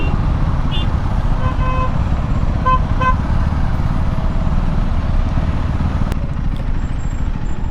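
Congested city road traffic in Hyderabad gives a loud, constant engine roar, with several short car horn toots in the first few seconds and no clear speech.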